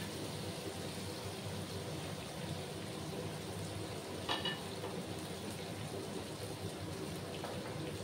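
Chopped ginger and vegetables frying in a pan over lowered gas heat, a steady close sizzle with faint crackles and a brief stir partway through, no talking.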